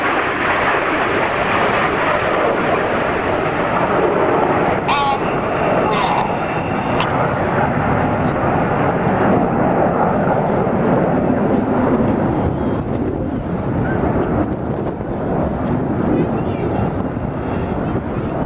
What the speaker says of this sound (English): And here come the 4 aircraft.